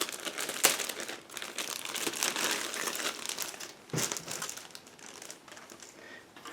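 A plastic bag holding two large sprues from an Eduard 1/72 Fw 190A-5 Weekend Edition model kit is opened, giving continuous close crinkling and rustling with a sharp tear near the start and a brief pause before more handling.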